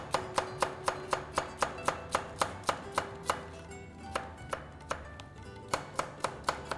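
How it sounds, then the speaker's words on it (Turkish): Rapid, steady knife chops on a cutting board as carrots are finely chopped, sharp close taps in an even rhythm with a brief pause midway, no talking. "ince ince doğramaya başladık"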